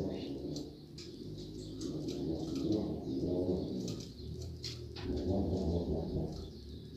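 A double-collared seedeater (coleiro) singing close by, bursts of bright chirped phrases over a low, steady background hum with some murmuring voices.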